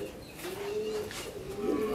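Pigeons cooing at a pigeon sale, a low, drawn-out coo that rises and falls against a noisy market background, close by.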